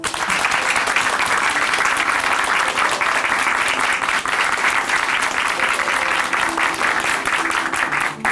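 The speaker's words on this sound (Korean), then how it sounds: "다시 한번 윤미애 자매님께 큰 박수 보내드릴게요" A church congregation in Chuncheon claps for a woman after her testimony, with thick, even applause continuing loudly and unbroken for over eight seconds.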